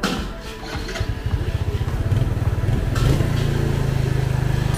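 A 2020 Yamaha Jupiter motorbike, recovering from an oil-starved seized engine, starts up and settles into a fast, loud, rhythmic idle putter that continues to the end.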